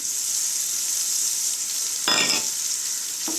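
Onions and garlic paste sizzle and fry steadily in a pan for South Indian pepper chicken, with a brief stirring scrape partway through, close and without any talk.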